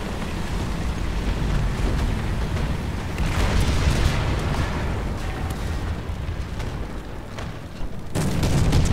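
Dense, rumbling artillery strike explosions in the tank game War Thunder roll continuously, with deep booms and crackling bursts building and breaking off, then resuming loud and close.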